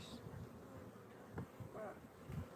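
Honey bees drone in a low, steady buzz at an open hive during a hive split, faint and continuous, with a few brief louder passes near the microphone.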